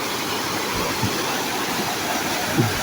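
The Nerja waterfall near a village, Ulu Maras, pours in a dense, constant broadband roar of rushing water that fills the whole clip, close and loud, with no voices.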